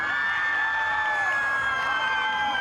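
Students cheering on their friends at a county Special Olympics competition, a steady wash of crowd cheering and shouting throughout, loud and continuous.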